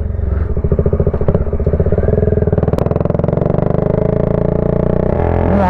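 A motorcycle engine runs steadily and close by during a ride, its low, pulsing drone continuous and loud throughout with no voices.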